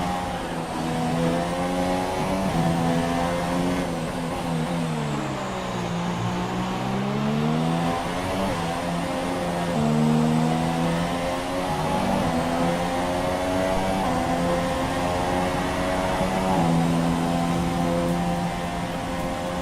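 Race car engines in the F1 2017 video game at the Australian GP on the final lap, a continuous loud high-pitched whine rising and falling through gear shifts, with no talk.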